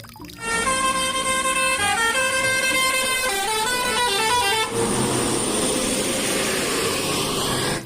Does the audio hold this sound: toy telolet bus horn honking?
yes